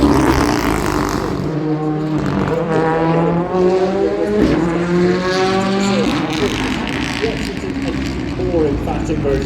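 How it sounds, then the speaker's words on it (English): Rally car sliding sideways through the McRae corner on a rallycross section at the International McRae Rally Challenge, its engine note rising and falling in loud, close revving sweeps with a steady roar throughout, and commentary voices underneath. "Look at the drift on the outside of the McRae corner."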